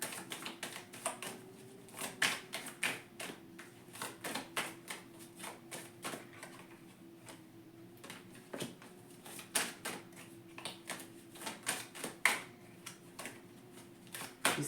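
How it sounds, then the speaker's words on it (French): Tarot cards are being gathered and shuffled at close range, with a steady patter of soft, quick taps and riffling slaps over a faint low hum and no speech. "Là, je ramasse les cartes, on va mélanger."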